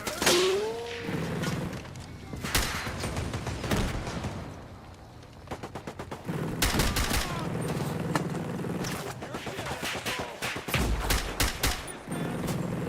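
Video game gunfire in rapid bursts and sustained volleys, loud and close, with thuds and blasts mixed in and voices talking over the shooting.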